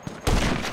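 Burst of gunfire in a shooting video game match, a sudden loud volley after a brief quiet lead-in, sustained and close for the rest of the moment with no talk.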